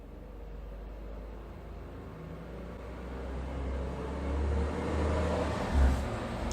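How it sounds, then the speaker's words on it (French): A truck passing outside, heard indoors as a faint low rumble that slowly swells and peaks near the end, with no talking. "Ah non, c'était un camion."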